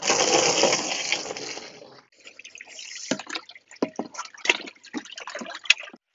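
Water flows and drips through a Dutch bucket hydroponic system, starting as a steady rush that cuts off, then irregular close splashes and drips trickling into the buckets.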